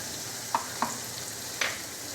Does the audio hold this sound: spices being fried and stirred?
yes